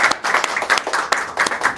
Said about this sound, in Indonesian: Oke, tepuk tangan buat semua yang udah tampil hari ini dong